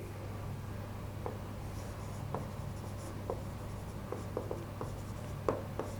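Pen scratching quietly on paper while working through a depreciation calculation, soft irregular strokes and small taps over a steady low hum, no talk.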